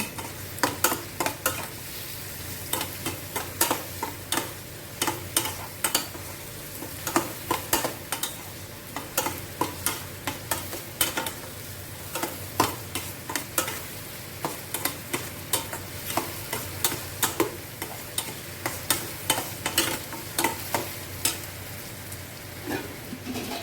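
Onions and curry leaves sauté on full flame for a sundaikai tamarind curry, a continuous sizzle overlaid by brisk, rhythmic scraping strokes of a spatula against the pan, repeated steadily throughout.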